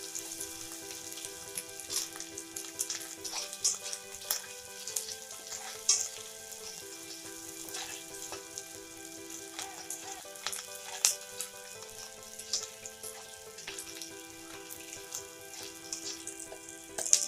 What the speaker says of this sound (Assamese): আৰু এইখিনি ভালদৰে অকণমান ৰঙচুৱা হোৱালৈ ভাজি ল'ম